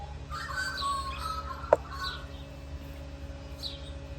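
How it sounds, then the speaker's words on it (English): Chickens cluck softly in the background over a low hum, with a sharp click partway through. "we'll enjoy the lovely bird sound while we can"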